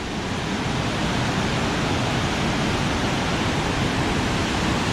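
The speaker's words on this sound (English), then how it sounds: "Oh, check it out, Waterfall." A waterfall on the Middle Fork Snoqualmie River pours near a footbridge, a dense, steady rushing roar that stays loud and unbroken with no voices over it.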